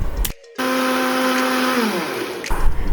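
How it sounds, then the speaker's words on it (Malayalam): Mixer grinder running steadily as it grinds coconut with roasted urad dal into a fine paste, a loud continuous motor whine that shifts pitch partway through, briefly cut at the start and tapering near the end. "നമ്മളതൊരു ജാറിലേക്ക് മിക്സിയുടെ ജാറിലേക്ക് നാളികേരവും നമ്മൾ വറുത്ത ഈ സംഭവം കൂടിയിട്ട് ഇട്ടിട്ട് അരയ്ക്കണം"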